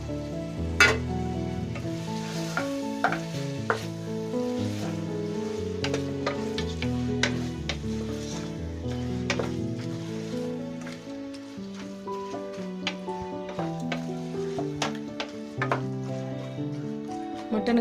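Mutton frying in a pan for kari kulambu, with a steady crackling sizzle and scraping stirring throughout, heard up close and at a fairly even level, with no talk over it.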